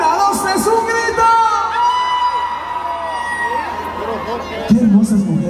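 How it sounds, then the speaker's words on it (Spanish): A party crowd at a Cherán festival gives a long, loud collective shout and whooping on a count, sustained voices blending into a roaring mass before a voice cuts in at the end. "Una, dos, tres, un grito."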